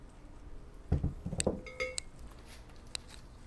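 Crumble mixture dumped into a foil-lined baking pan: a short cluster of rattling, clinking and crinkly rustles in the middle, with a few fainter clinks trailing off in a quiet kitchen.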